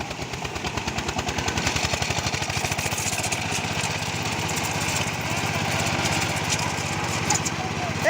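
A power tiller's small engine runs in a farm field with a steady, fast chugging pulse, close and loud throughout, as people talk faintly beneath the noise.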